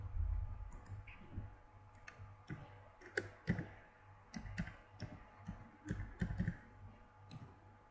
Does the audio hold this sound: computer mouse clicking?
yes